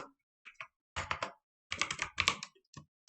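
Code being typed on a computer keyboard in short clustered bursts of close, crisp key clicks separated by pauses, with no talking.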